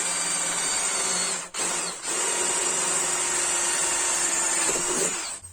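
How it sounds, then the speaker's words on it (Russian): A power drill boring into the steel wall of an empty gas cylinder, a loud steady whine close up that runs almost without pause, with two brief dips where the bit eases off. "Будем сверлить."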